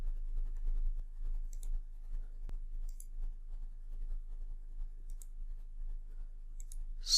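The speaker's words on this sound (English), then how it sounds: "double click on map chart" A computer mouse gives a few sparse, crisp clicks during work on an Excel map chart, quiet and close against a low background hum.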